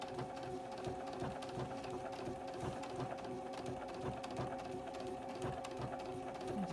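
Sewing machine stitching in the ditch on a Halloween quilted table topper, a steady, even rapid needle rhythm running slowly and continuously at low volume with no voices.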